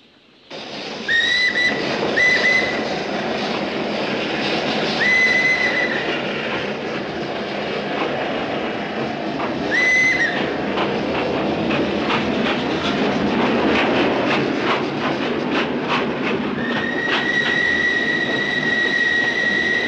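A train runs steadily throughout, its wheels clattering over rail joints while several shrill whistle blasts sound near the start, middle and end, loud and close with no talk.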